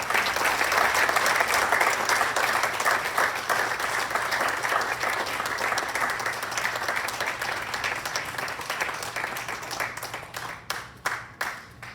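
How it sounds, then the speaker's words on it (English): Sustained audience applause at a Hall of Fame induction ceremony, dense and steady for about ten seconds before thinning into scattered individual claps at the end. "please, a loud applause here for Andrew Hammond"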